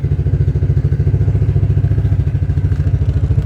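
An old Suzuki quad's engine runs close and loud while the machine backs out, giving a steady, thumping idle-like pulse with a rough mechanical clatter throughout.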